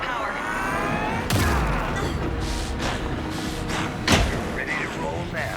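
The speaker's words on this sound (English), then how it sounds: "Anderson, pin him down with gunfire for me to get the light on him" Gunfire in the video game Alan Wake 2, with a few sharp shots, one around the middle and a louder one later, cracking out over a busy game soundscape while characters talk.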